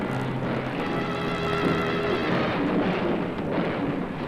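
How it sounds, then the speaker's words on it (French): A thunderclap from a lightning strike rolls out as a loud, sustained, rumbling roar that stays broad and continuous throughout, with no voices. "L'éclair ne peut pas tarder"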